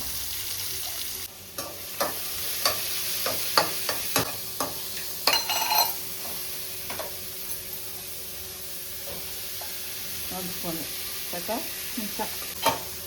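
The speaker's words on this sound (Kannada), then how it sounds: "ಆನಿಯನ್ ತುಂಬ ಚಿಕ್ಕಗೆ ಕಟ್ ಮಾಡಿಕೊಂಡು ಇಟ್ಕೊಂಡಿದ್ದೀನಿ. ಸೊ ಆನಿಯನ್ ಆ್ಯಡ್ ಮಾಡ್ತಾ ಇದ್ದೀನಿ." Finely chopped onions frying in a pan for mushroom fried rice, a continuous hissing sizzle with frequent clicking, scraping stir strokes close by throughout, no speech.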